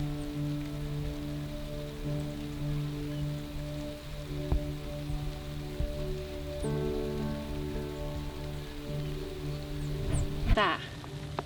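Light rain falling outdoors in Portugal after a dry winter, a soft, even patter on surfaces continuing steadily, with a brief rustle near the end.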